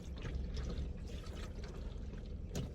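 Water from a natural roadside source is collected beside a parked car in Himachal's Tirthan Valley to clean its windshield, a steady close pouring and trickling with soft splashes and no talk.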